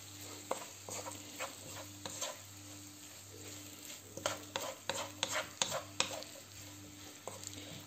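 Minced meat being stirred in a frying pan for a pasta gratin, with soft sizzling and a run of quick scraping, clinking spoon strokes that grow busier toward the end, close up with no voices.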